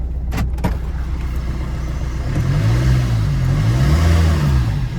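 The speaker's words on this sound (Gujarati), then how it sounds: "ડીઝલ એન્જિન છે આમાં." A 2013 diesel car with a DDI engine idles roughly at first, then revs up and down in a couple of rising and falling sweeps, close and loud, no talking.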